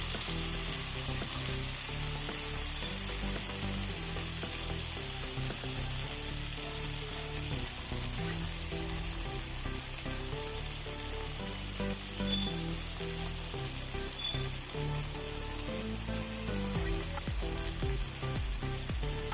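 Mackerel frying in a pan coated in spice masala, with coriander powder in the mix, gives a steady close sizzle and crackle that runs unbroken throughout, with no talking over it.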